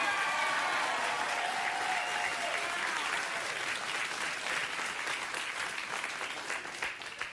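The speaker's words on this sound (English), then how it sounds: "they were clapping for Steve and Courtney, not for the entire country of Canada" A studio audience at a TV talk show claps loudly and continuously for two guests, a dense wash of applause that slowly thins and fades toward the end.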